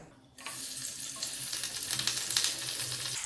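Sliced onion and curry leaves hit hot coconut oil in a pan for a mushroom green masala, setting off a sudden loud, steady sizzle that carries on, close and alone.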